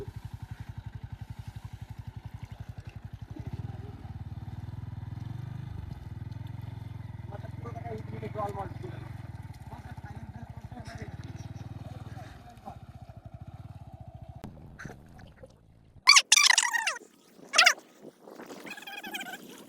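A motorcycle engine idles with a steady low throb for most of the stretch before cutting off, followed by a few sharp, loud clattering bursts near the end.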